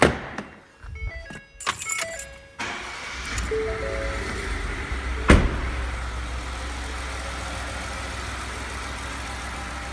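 A car is started in a workshop for in-cylinder pressure testing: keys jangle and clicks sound first, then the engine cranks and catches with a sharp burst before settling into a steady, close idle.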